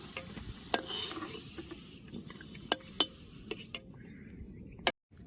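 Potatoes fry with a steady sizzle in a pan while a utensil stirs them, scraping and clinking sharply several times against the metal, close and clear before the frying cuts off near the end.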